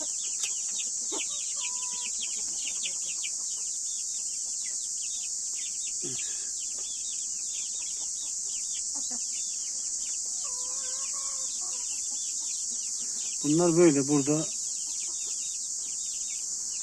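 A hen with Indian breed chicks gives occasional soft clucks and peeps, and one louder call near the end, over a steady, loud insect buzz, with brief talk.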